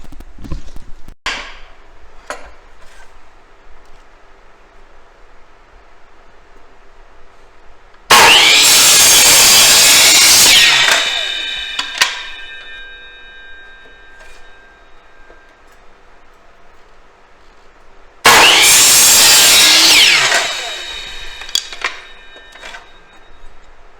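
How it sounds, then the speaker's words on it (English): Two loud bursts of a miter saw cutting through wood, each a few seconds long with a whining spin-down, separated by quiet workshop ambience. "then head back over to the miter saw"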